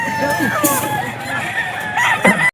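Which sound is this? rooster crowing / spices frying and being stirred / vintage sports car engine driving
rooster crowing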